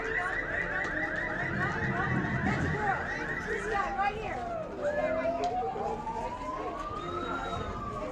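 Emergency vehicle sirens at a Veterans Day parade wail in a fast yelp, then shift into a slow rising wail. A band plays faintly in the background and the crowd chatters.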